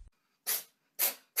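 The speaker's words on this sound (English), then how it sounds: "Cat sneezing" Two short, sharp bursts of breathy noise about half a second apart, a cat sneezing up close, with a quick thump at the start.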